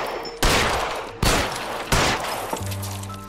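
Three sharp, loud gunshots in the video game LA Noire, evenly spaced and close, each followed by a short ringing tail, no talking.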